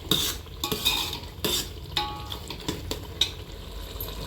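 A spoon stirs whole masoor lentil curry in a pan in a series of scraping strokes, each roughly half a second apart, over a faint sizzle from the pan, with no voices.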